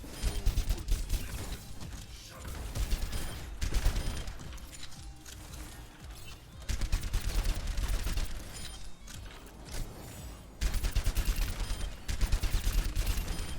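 Soldier's rifle in the Overwatch 2 video game fires in bursts of rapid shots, with several dense volleys separated by short pauses, loud and close alongside game sounds.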